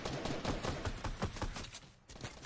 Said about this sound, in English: who's that then shooting?